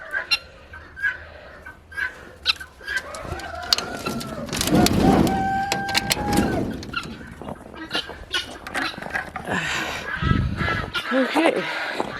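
Guinea fowl calling as the birds come out into the snow of a Michigan snowstorm, a run of short, loud clucking and honking cries at close range, with other chickens, turkeys and ducks nearby and a person speaking at times.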